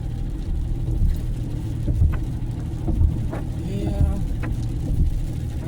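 A car engine rumbles low and steady as the vehicle eases its speed on a road trip near Lock Haven and Mill Hall. The engine has a tapping fault. Brief higher clicks sound over the drone, and voices talk now and then.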